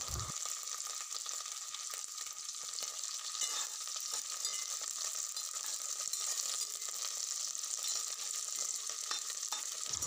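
Curry leaves frying in oil with onion and green chili for a potato fry curry, a constant hissing crackle held at an even level throughout.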